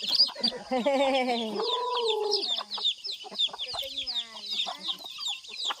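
Free range chickens squabble on a farm, with loud clucking, squawks and agitated calls close by, overlapping in a busy chorus that keeps up throughout.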